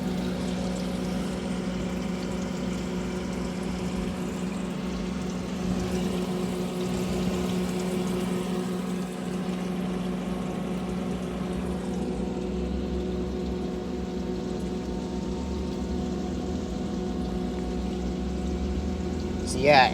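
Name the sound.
submersible pump in cooling tower water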